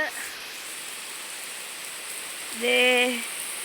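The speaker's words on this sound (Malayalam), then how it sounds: "മഴ നന്നായിട്ട് പെയ്യുന്നത് നമുക്ക് കാണണം ഗൈസ്" Steady rain falling, a continuous even hiss of drops on surfaces, with a brief tonal chirp rising above it near the end.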